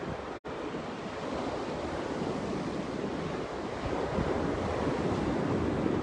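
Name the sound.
sea waves at beach by caves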